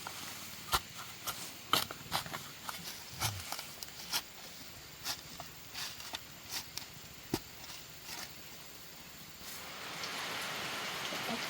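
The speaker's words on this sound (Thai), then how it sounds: "ฝนก็ลงมานี่" Rain falls steadily over a rural Thai farm area with a cherry tree and a stream, a soft continuous hiss broken by scattered sharp drips and patters, with the wash growing heavier near the end.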